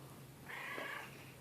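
A pet cat gives a single soft, drawn-out meow lasting under a second, faint and close, over a steady low household hum with no talk.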